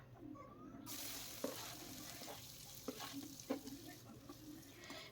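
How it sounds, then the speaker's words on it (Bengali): Chopped onion hits a pan of hot oil tempered with dried red chillies and bay leaf, setting off a sudden, sustained sizzle broken by a few soft utensil knocks. "পেঁয়াজটা আমি হালকাভাবে এখানে ভেজে নেব"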